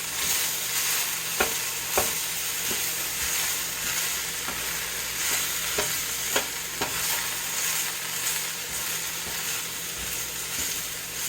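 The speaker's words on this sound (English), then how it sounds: "So I'm just going to keep stirring this in until it looks like it's tender" Red and green cabbage stirred with sauteed peppers in a pan, a constant close frying hiss punctuated by irregular sharp clacks and scrapes of the utensil against the pan.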